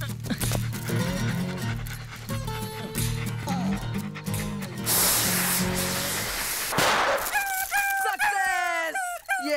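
A dog barks, yips and whimpers, loud and close, with a hissing spray burst midway and rising whines toward the end, the barking mixed with a voice.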